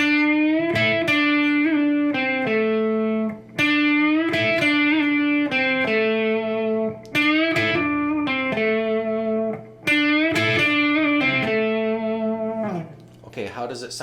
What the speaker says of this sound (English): This is a full bend, which you could do kind of slow, and then the next one, do quick.